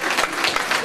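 An audience claps at an award ceremony for a charity finale at a community cultural centre, with brief, dense, close applause pulsing slightly throughout.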